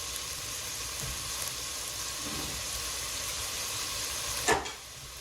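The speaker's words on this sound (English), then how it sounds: "I'm just throwing in a nice minced sweet onion." Minced sweet onion fries in a hot pot with a dense, continuous sizzle and hiss. A brief louder crackle rises near the end, then the sizzle settles again, with no speech.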